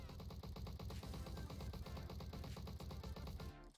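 Rapid automatic fire from an MP40 submachine gun in the Roblox shooter Bad Business, a dense, steady burst of closely spaced shots lasting several seconds before cutting off sharply.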